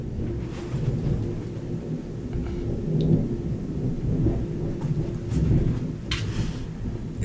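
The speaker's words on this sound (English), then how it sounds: "That is some thunder." Heavy thunder from a storm rolls and rumbles low and continuously, swelling and fading in long waves with a hiss of rain behind it and no voices present.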